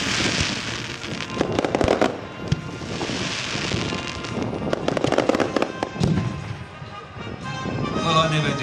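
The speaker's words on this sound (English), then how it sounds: "One thing they got over there is lots and lots of explosions." Pyrotechnic explosions at a model air raid display go off as repeated sharp bangs and crackles over wind noise, with people talking in the background.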